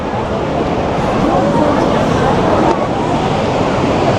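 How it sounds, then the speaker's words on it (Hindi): The Saraswati river in the Himalayas near Mana rushes in a dense, loud, steady roar of fast water, close by, with wind buffeting the microphone and a voice talking over it. "सो ये है जी सरस्वती नदी।"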